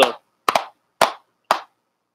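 Four sharp single hand claps, evenly spaced about half a second apart, loud and close in an otherwise quiet room, the second with a quick double hit.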